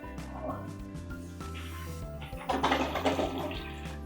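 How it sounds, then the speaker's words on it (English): A hotel toilet flushes with a rush of water that swells near the end, set under steady background music. "It's time for the flush test."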